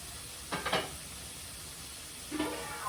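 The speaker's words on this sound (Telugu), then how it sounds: "ఫస్ట్ నీళ్ళు పోసేయకుండా నూనెలో మగ్గనిద్దామండి" Drumstick and tomato cook in oil in a pan with a faint, steady sizzle, broken twice by short stirring scrapes.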